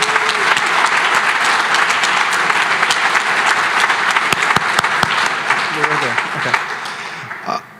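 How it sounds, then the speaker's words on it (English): Enthusiastic applause for a female athlete at an all-stars sports gala, dense clapping from a large crowd that continues strongly for several seconds with some cheering, then tapers off at the end. "A round of applause for our female athlete"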